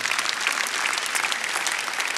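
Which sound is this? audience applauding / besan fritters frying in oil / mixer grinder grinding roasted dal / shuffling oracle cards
audience applauding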